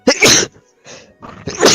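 A single person sneezes loudly and close, with a sharp intake and burst at the start, a short pause, and then a second forceful sneeze.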